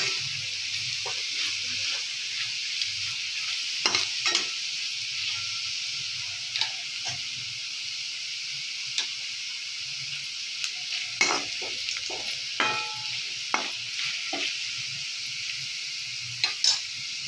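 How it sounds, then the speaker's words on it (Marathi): Potato pieces frying for sabudana khichdi, a continuous soft sizzle under scattered clicks and scrapes as a spoon turns them in the pan, near and without voices. "अशा प्रकारे हा बटाटा परतून घ्यायचा मस्त."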